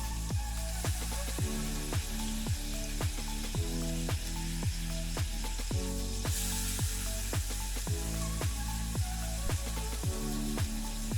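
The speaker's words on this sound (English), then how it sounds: "I need to add a little sear to this each side." Food sears in a pan on a portable gas-cylinder stove inside an ambulance camper, giving a loud continuous sizzle over an even, repeating pulse that runs through the whole stretch.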